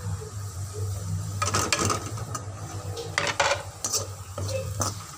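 Spices frying with fried onions in a pan for a yogurt potato curry, stirred with a spoon: a steady low sizzle broken by repeated scraping and clinking strokes of metal against the pan, close and moderately loud.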